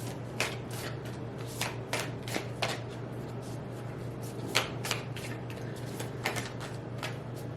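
Oracle deck cards are shuffled by hand in a quiet room, giving a steady run of soft riffling flutters with a dozen or so sharper snaps and taps over a low background hum.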